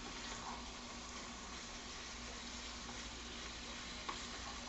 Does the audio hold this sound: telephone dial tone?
no